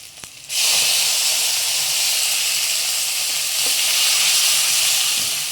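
Ground tomato paste hits sautéing onions in a pan for a hotel-style okra tamarind curry, and a loud, steady sizzle erupts suddenly and holds close and continuous.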